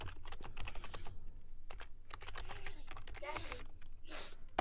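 Rapid typing on a computer keyboard, with a steady run of light clicks and clatter that continues through the stretch under a faint background murmur.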